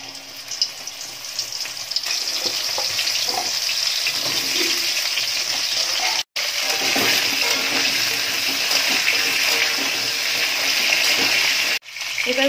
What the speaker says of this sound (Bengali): এবার এই তেলেই পটলগুলো ভেজে নেব।